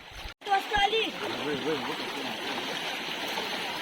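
Water rushes in a steady broadband wash, like a flowing river nearby, while a person speaks briefly at the start.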